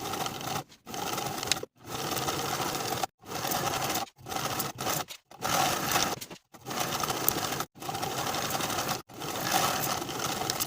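A sewing machine stitches shoulder and side seams of a bow tie top in repeated loud, close bursts separated by short pauses.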